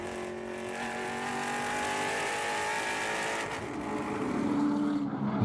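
Onboard sound of a TA2 race car at speed at World Wide Technology Raceway: a loud, steady, close engine roar that holds through upshifts and swells near the end, with no voices.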